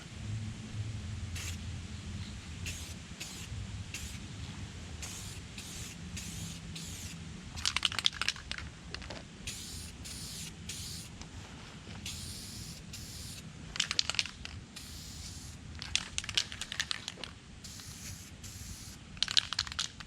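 Spray paint goes on as a third coat in an open, ventilated spot outdoors: short, sharp aerosol hisses in irregular bursts, some quick and some held longer, over quiet background.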